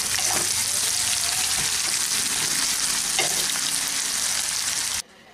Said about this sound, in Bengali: এগুলোকে একদম ডিপ বাদামি করে ভেজে নিচ্ছি।